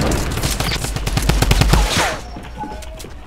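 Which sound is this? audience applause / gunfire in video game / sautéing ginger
gunfire in video game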